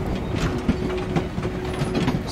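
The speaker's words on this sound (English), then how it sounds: "Slow down the train!" A train moving in a video game, a steady rumbling roll with rhythmic clickety-clack of wheels on rails, continuous at moderate level with no talk.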